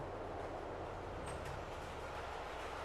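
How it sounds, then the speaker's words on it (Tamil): A train rolls past with a steady, dense rumble and rail clatter in Euro Truck Simulator 2, a continuous loud wash of noise with no speech over it. "இங்க ட்ரெயின் போகுது பாருங்க."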